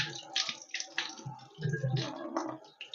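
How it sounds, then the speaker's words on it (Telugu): Amaranth stems washed by hand in a basin of water, with soft sloshing and splashing that comes and goes as the stalks are rubbed clean to remove soil. The sound is close up and moderately quiet, with no talking. "చేతితో మెదుపుకుంటూ కడగాలి."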